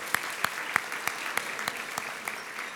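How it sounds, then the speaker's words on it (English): Scattered claps and a light round of applause from an audience at a Summer Rise closing ceremony, with sharp individual claps standing out over a softer wash of clapping, fairly close and steady for a few seconds. "So that deserves another round of applause as well."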